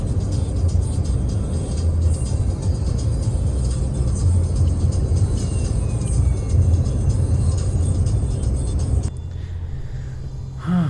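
Rumble of a self-drive rental car on the road in Kerala, heard from inside as a loud, steady engine and road roar that drops off slightly near the end.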